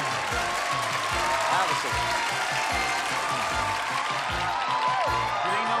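Studio audience on the game show Super Password claps steadily and loudly in a sustained round, with a voice speaking over it.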